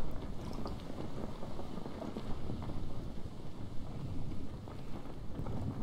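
Wind gusting across open sea in the survival game Stranded Deep, a steady broadband rush with low rumbling and churning water noise, fairly quiet and continuous with no voices.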